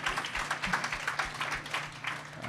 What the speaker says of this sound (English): You can clap, it's totally fine.